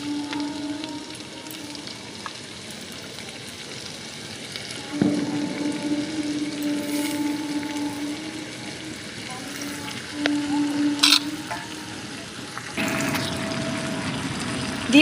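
Chopped chicken fries in a pan with a low, steady sizzle, joined by a few louder spitting bursts as pieces are moved, with scraping and light stirring noises.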